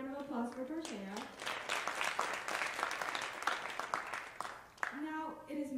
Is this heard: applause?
yes